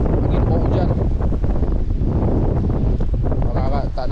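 Strong wind buffeting the microphone under a bridge during fishing, a constant loud roar with gusts, and a voice speaking over it.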